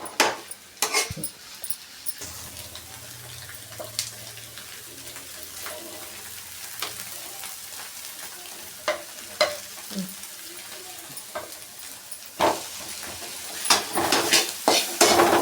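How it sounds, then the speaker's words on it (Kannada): A moringa flower and egg stir-fry cooks in a pan under a steady low sizzle, with sharp spatula clinks and scrapes scattered throughout, close and fairly quiet. "ಇವಾಗ ಮೊಟ್ಟೆ ಯಾವ ರೀತಿ ಫ್ರೈ ಮಾಡ್ತೀವಿ ಆ ರೀತಿ ಬಿಡಿ ಬಿಡಿ ಆಗೋವರೆಗೂ ಫ್ರೈ ಮಾಡ್ಕೊಳ್ಳೋಣ"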